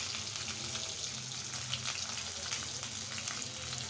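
Crushed garlic frying in hot oil with dried red chillies, a continuous close sizzle with small crackles and light stirring, steady in loudness and free of talk.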